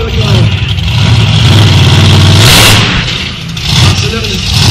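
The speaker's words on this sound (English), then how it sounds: "He will accelerate and pull the truck up the side of the car." A monster truck engine revs hard and loud as it accelerates to climb onto a car, a close, roaring surge that dips briefly before rising again, with a voice speaking over it.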